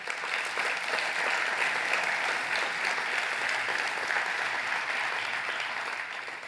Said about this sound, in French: Voilà, on peut les applaudir.